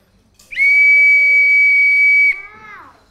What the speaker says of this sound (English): So I'm going to play the whistle, first of all, and listen carefully to this noise.